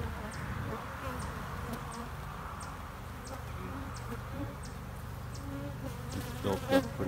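Honey bees from a nucleus colony, hive built up with eggs and brood, buzz steadily and close by, a continuous insect drone across the whole stretch with faint voices nearby.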